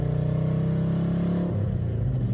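Supercharged car engine held at steady high revs with a dense, sustained drone, then shifting to a lower, rougher note partway through; close, loud and alone with no talk.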